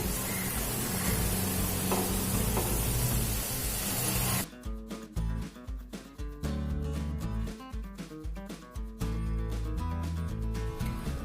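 Ivy gourd deep-fries in hot oil with a dense, loud hiss that cuts off partway, followed by rattling, clinking scoops and scraping as the pieces are lifted out.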